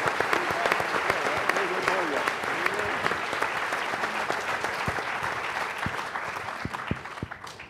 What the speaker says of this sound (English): let's give a big round of applause to our golfers who are in the audience here tonight